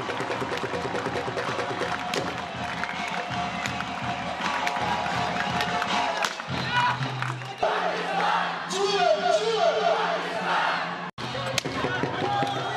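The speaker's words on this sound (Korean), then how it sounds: "힘찬 함성 소리가 울려 퍼지기 무섭게" Crowd shouting and chanting at the Pakistan-India border ceremony, a dense, loud roar of many voices rising and surging over the whole stretch, with brief breaks.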